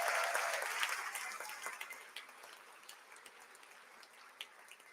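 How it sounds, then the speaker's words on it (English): Applause from the audience at an Ignite Annapolis talk event, fairly distant and soft, starting as a full patter of clapping and thinning out gradually to a few scattered claps. "Give them all a round of applause."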